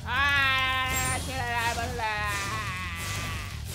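Sheep in the Spyro Reignited Trilogy video game bleats in a few wavering, nasal cries that rise and fall, fairly faint, alongside other game sounds.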